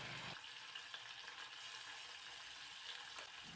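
Cauliflower florets sautéing in a pan of hot oil with a pinch of salt, a steady close sizzle with faint stirring scrapes throughout, no voices.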